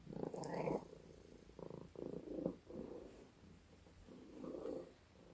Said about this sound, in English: I was interrupted once again, this time by a cat.